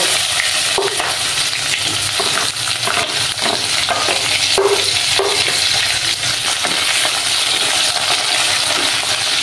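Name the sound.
chopped onions frying in oil with spices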